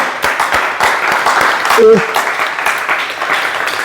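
Church congregation applauding and cheering during a Tuesday teaching service, dense continuous clapping close up with voices calling out over it.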